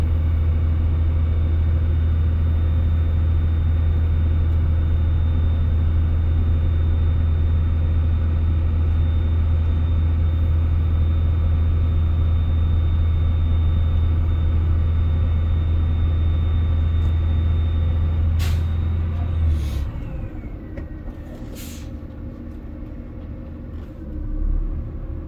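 A school bus with air brakes runs with a loud, steady low engine drone for most of the stretch during a 20 mph stop test, then the engine note drops as it slows, followed by a few sharp hissing bursts from the air brakes.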